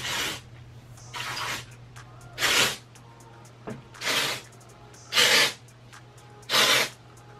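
Batiste color-protecting dry shampoo sprays into hair in six sharp, hissing bursts of about half a second each, spaced irregularly and heard close and alone over a faint steady hum.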